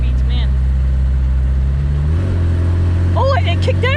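An Opel GT fitted with a Weber 32/36 carburetor drones along at speed, then its automatic kicks down and the engine note rises and pulls harder, loud and close, with people talking over it.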